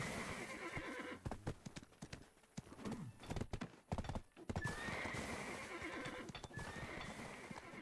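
Horse hooves clip-clop steadily in the Black Desert video game, a rapid rhythmic trot carried on through most of the stretch, with a neigh and other game sounds mixed in.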